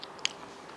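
A single close, crisp bite into prawn pidi, the Kerala rice dumplings cooked in a shrimp stock, followed by quiet; no talking.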